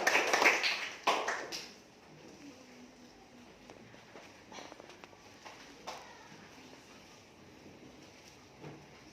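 Classroom children clap together for a classmate in a short, dense burst of close applause that fades after a second or two into a quiet room with scattered light taps.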